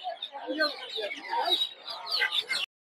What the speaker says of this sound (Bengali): এগুলো সব হচ্ছে দেশি মুরগির বাচ্চা